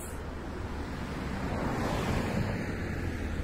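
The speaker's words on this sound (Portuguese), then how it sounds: "Venta muito, muito, gente." Strong wind gusting through the streets of Humahuaca in Argentina's Jujuy province, a loud continuous broadband roar that buffets the microphone and swells slightly toward the end.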